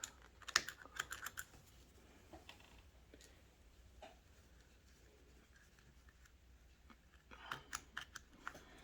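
Small scissors snip thread ends close on a leather badge holder, a scatter of faint, sharp clicks and ticks clustered at the start and end, with quiet handling in between.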